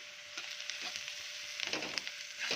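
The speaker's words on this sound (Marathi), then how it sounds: "आता हे छान एक मिनिटभर असं याला परतून घेऊया" Grated dry coconut and crushed peanuts roast in a pan with a faint, soft crackle and scattered light ticks as they are stirred, without talk.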